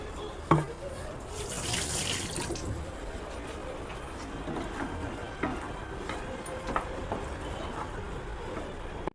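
Water poured into a pot of chicken curry, a soft splashing pour near the start settling into faint liquid trickles and drips over quiet kitchen background.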